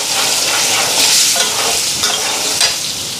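Spice paste of onion, cumin, coriander and ginger frying in oil, a steady close sizzle with stirring scrapes rising and falling throughout, no voices.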